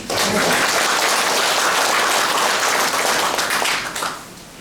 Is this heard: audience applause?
yes